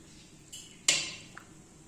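A metal serving spoon strikes a tray while kofta and chickpea pulao is dished out, giving one sharp ringing clank between faint softer taps. There is no talking.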